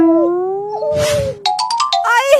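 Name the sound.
dog barking or howling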